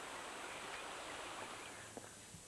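River water pours over a low weir beside a village, a steady broadband rush that stays fairly even and moderately faint throughout, with no voices.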